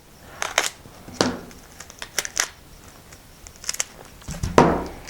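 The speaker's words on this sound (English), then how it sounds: "Get some packing tape, cut off a piece of that." Packing tape being pulled and cut off for a fuselage tailboom seam on an Xplorer F3J glider, heard as several sharp rips and snips spread across the span, with the loudest tearing near the end.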